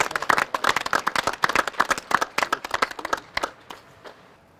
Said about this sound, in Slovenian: mislim, da si zasluži en aplavz